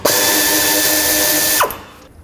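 A power ratchet or drill with a 10mm socket spins out the oil dipstick tube bolt on a Chevrolet Express van engine, a loud steady mechanical whir that runs about a second and a half, then stops abruptly.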